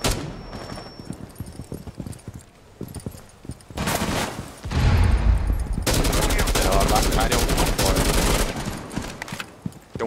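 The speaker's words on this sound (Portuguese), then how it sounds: "Eu levei tiro de dois lados ali, Lud." Rainbow Six Siege gunfire: scattered shots early, then heavy sustained automatic bursts with a loud blast in the middle, dense and close, with faint voices underneath.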